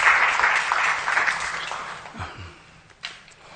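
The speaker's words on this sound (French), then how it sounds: "On applaudit encore Monsieur le ministre pour" Applause from the audience at a closing ceremony in West Africa honoring a minister's closing speech, a fairly loud wash of clapping that gradually thins and fades over a few seconds.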